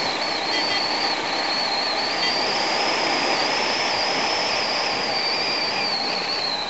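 Yamaha MT-03 motorcycle riding along, a steady broadband wind-and-engine roar with a persistent high whine, loud and continuous with no speech.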